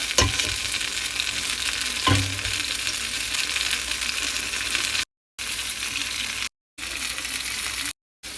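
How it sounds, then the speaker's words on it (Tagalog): Beef tripe fries in a saucy pan for callos, a steady, even hiss of sizzling with a couple of soft clinks or stirs near the start, broken by short silent gaps. "Hulog na natin ang ating mga beef tripes."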